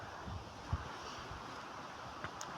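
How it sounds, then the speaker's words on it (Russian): Strong outdoor wind of about force 5, bending the trees, blows as a steady rushing roar buffeting the microphone, with a couple of brief low thumps and no voices. "И есть такой шум ветра."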